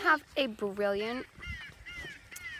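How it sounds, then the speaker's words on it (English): A blueberry-patch bird deterrent broadcasts harsh, angry-sounding squawking bird calls, a few loud harmonic cries followed by fainter ones, with a person speaking over the start. "You can hear the angry sounding bird"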